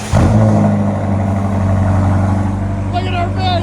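A straight-piped 2019 BMW X5 M50i with its 4.4-litre V8 rumbling loudly at close range, holding a steady, deep idle-like drone with a slight swell; voices are heard briefly near the end.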